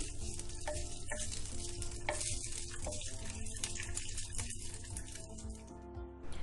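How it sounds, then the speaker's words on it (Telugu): A tempering of dry red chilli, cumin and curry leaves fries in a teaspoon of hot oil, a dense, continuous crackling sizzle that runs the whole time beneath steady background music. "ఒక ఎండుమిర్చి తాలింపు గింజలు జీలకర్ర అలాగే కరివేపాకు వేసుకొని పోపు పెట్టేసుకుంటే సరిపోతుంది చక్కగా ఇవి వేగేంత వరకు ఆ టీ స్పూన్ నూనెతోనే ఇలా చక్కగా వేపుకోండి"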